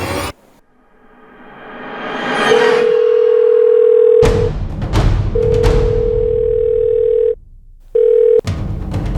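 A steady telephone dial tone hums in bursts amid rising noise and sharp clicks, cutting off and resuming as a call is placed.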